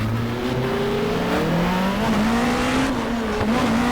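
A British Touring Car Championship car's engine in the GTR2 racing game drones and rises steadily while pulling out of the pit lane, loud and close with a continuous rising pitch.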